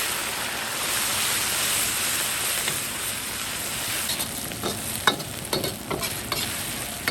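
Ciba chili paste and assorted seasonings stir-fried in a wok make a dense, loud sizzle, with a spatula scraping and clattering in irregular strokes toward the end.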